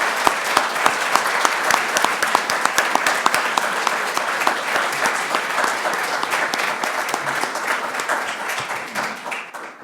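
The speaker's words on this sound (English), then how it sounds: "Let's have a round of applause for our candidates." Audience applause for mayoral candidates at a town meet-the-candidates night, steady dense clapping filling the room for about ten seconds and tapering slightly at the end.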